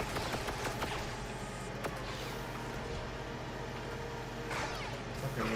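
A rifle in a video game firing rapidly, a dense, steady stream of shots blending into continuous rattling bursts amid busy game noise, loud and sustained throughout.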